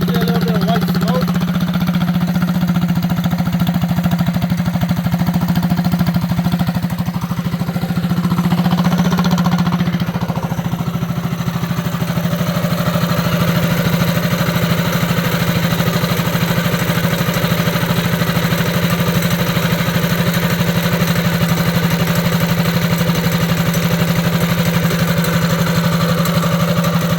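A Coleman B200rsv minibike's small engine, its governor removed, runs loud and continuous at close range with a steady throbbing drone and faint mechanical rattle throughout, while someone talks briefly over it.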